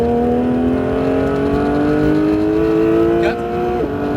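Porsche 911 GT3 accelerating on the Mirevall race circuit: a loud, close engine note climbing steadily in pitch, then a quick drop at an upshift before pulling again.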